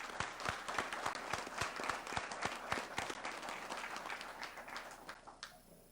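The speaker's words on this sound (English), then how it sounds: "Please join me in giving them a round of applause." A banquet-hall audience at a law enforcement appreciation dinner applauds steadily, many hands clapping in a dense, fairly close wash that holds for several seconds before thinning slightly at the end.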